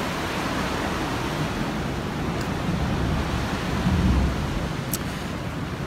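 Ocean surf rolls in as a continuous broad wash of breaking waves, loud and close, swelling slightly near the end with no voices.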